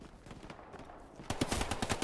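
Rapid gunfire in the game Hell Let Loose, faint bursts at first, then a louder volley of close automatic shots in the final second.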